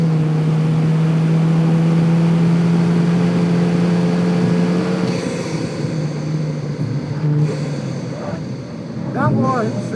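Volkswagen Golf GTI engine pulling hard on a hot lap at a tire-testing track, a loud steady drone that rises then eases as the car shifts, with brief tire noise near the end and a driver talking over it.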